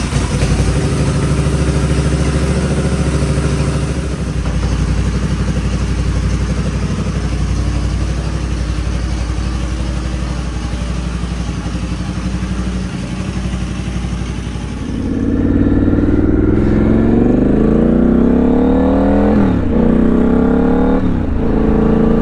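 A Triumph Scrambler 1200 XE motorcycle engine runs steadily and loud for about fifteen seconds, then shifts to rising, falling revs with distinct gear-change sweeps as the bike pulls away and rides off.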